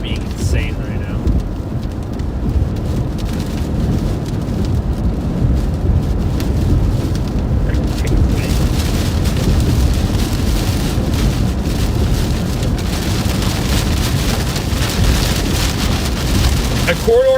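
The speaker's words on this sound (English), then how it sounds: "Wind is being insane right now." Loud, constant roar of strong wind and heavy rain battering a vehicle in a tornado-warned storm in Iowa or Wisconsin, a dense wash of noise with rumbling underneath and no pauses.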